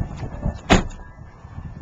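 A rear door on a four-door Toyota Tundra pickup thuds shut once, close and fairly loud, with a short burst of rattle and a brief fade amid quiet outdoor background.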